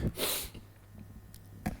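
Two short, breathy sniffs from a head cold, close to the microphone, one near the start and one at the end, with quiet stillness between.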